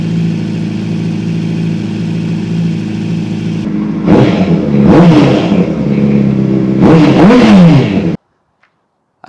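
A Honda CBR600RR motorcycle engine idles steadily while warming up with its exhaust headers fitted, then is blipped in two sharp rev bursts before cutting off abruptly into silence.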